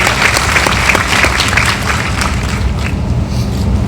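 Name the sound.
audience applause at a university convocation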